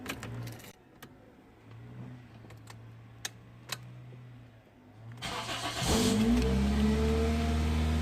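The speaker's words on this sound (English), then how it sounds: "Yes guys, the vehicle is now started." Car keys jingle and click before an engine cranks and starts after a new battery is installed, then settles into a loud, steady idle close by.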